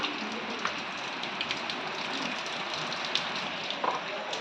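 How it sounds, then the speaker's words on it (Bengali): Steady rain falls outside as a continuous, even, broadband patter with no pauses. It sounds fairly soft and distant, and no one speaks over it. "আর এই দেখো বাইরে কিন্তু এখনও বৃষ্টি পড়ছে"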